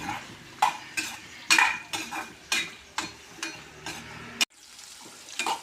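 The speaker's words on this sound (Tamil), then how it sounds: "அடுத்தது வெங்காயத்தை நல்லா வதக்கணும்." Onions sauté in a frying pan as a utensil stirs and scrapes them in regular rhythmic strokes, each with a clink over a soft sizzle, close by, ending in a sudden quieter pause.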